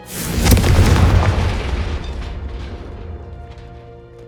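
A Confringo blasting curse explodes in Hogwarts Legacy, a loud, deep boom that swells within half a second and then rumbles and decays slowly over several seconds, alone without voices.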